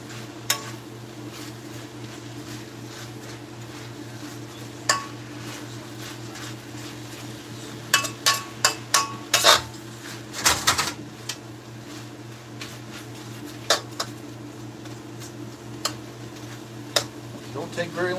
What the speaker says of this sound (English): then stir the noodles on top, and then stir in everything.